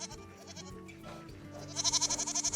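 Goats on a farm bleat, a close, wavering, nasal call that swells near the end into a loud quavering cry over quieter overlapping bleats, with no talking.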